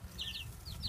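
Soft, brief clucking from young chicks close by at a chicken coop, a few quiet chirpy calls over a low background hum.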